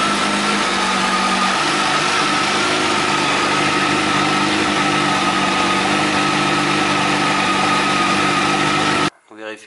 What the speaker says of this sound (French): Maintenant je vais faire tourner le moteur 3 minutes